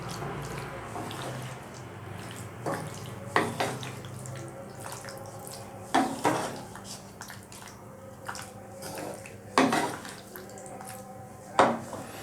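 Penne pasta with Bandel cheese gets a final stir in a pan: quiet, intermittent spoon clinks and scrapes against the metal, with a few sharper knocks, and no talking.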